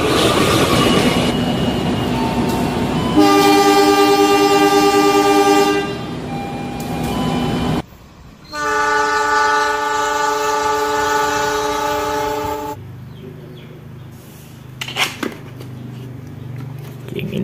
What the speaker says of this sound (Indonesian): Yang ini lokomotif CC-06.